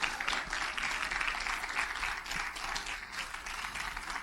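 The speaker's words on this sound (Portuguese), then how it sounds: "deem uma salva de palmas para ela por isso." A church congregation applauds at a Sunday morning service, a steady, dense wash of clapping held at even strength for several seconds with no talk over it.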